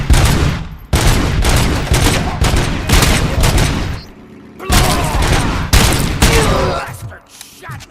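Gunfire in the Robocop Rogue City video game, a loud rapid barrage of shots in dense bursts separated by short gaps, close and harsh, with a voice briefly heard amid the firing.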